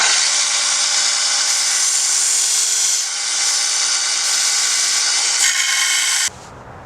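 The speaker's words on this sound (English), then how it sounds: "We're gonna get to grinding a knife." Abrasive grinding of a hand-forged steel chef knife, a loud, continuous bright hiss and whine with slight fluctuations as the blade is worked, cutting off abruptly near the end, with no talk.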